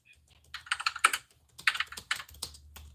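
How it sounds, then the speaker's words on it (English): Someone types on a computer keyboard in bursts of quick, close, crisp clicks with short pauses, against a faint low hum. "I hate to be typing it on a live show"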